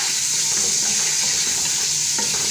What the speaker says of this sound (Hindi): हम लहसुन के अंदर फ्राई करेंगे ताकि इसकी स्मेल ख़त्म हो जाए।